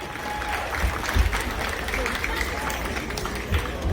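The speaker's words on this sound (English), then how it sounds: "a big round of applause to all of the winners" Applause from an audience honoring the winners at a community gathering in Lummi, a steady wash of clapping with crowd murmur throughout, a few louder thumps standing out.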